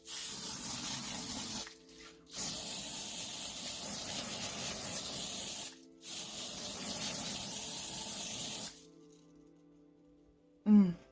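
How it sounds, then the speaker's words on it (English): Two long, steady hissing sprays of makeup setting spray from a mist bottle onto a face, each lasting several seconds with a brief pause between, followed by a short soft thump. "we're gonna go in with the Revolution Glow Body Fix Fixing Spray, and we're gonna spray our face"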